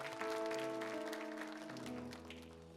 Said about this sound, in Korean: 우리 시간 하나님께 감사와 영광의 박수 한번 올려드리겠습니다